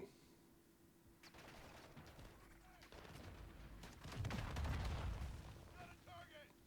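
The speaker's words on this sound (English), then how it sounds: "Somebody's shooting heavy stuff at us." Bursts of heavy gunfire and booming explosions in a video game build to a loud rumble, with faint voices and electronic tones in the background.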